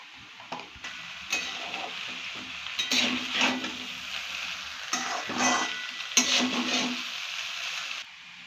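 Rice frying in a hot pan in a home kitchen while a spoon stirs it, giving steady sizzling with repeated scraping strokes in an uneven rhythm. The sound is close and moderately loud, with no talking.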